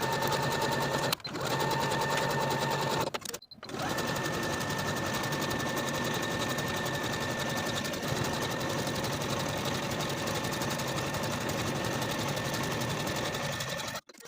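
A sewing machine runs a T-shirt center seam in a steady, loud mechanical whir, stopping briefly twice near the start before running continuously to the end.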